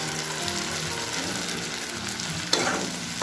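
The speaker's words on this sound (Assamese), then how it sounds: "এতিয়া এই ভাজি থকা পিঁয়াজখিনিত মই পেষ্টটো দি দিম" Onions frying in a pan with a ground paste of cashews, almonds and raisins, giving a steady close sizzle and crackle throughout, with a brief sharp clatter near the end.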